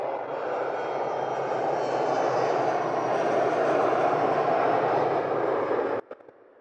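An airliner at Edinburgh airport, its jet engines giving a loud, steady roar heard from nearby for about six seconds before cutting off abruptly into quiet.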